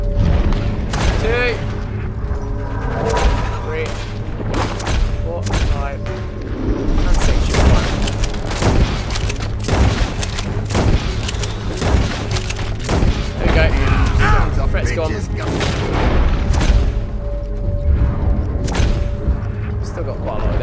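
Volcanic pistol shots aimed at guards in Red Dead Redemption 2, rapid repeated bangs and thuds among dense game effects and music, loud and close, with a voice talking over much of it.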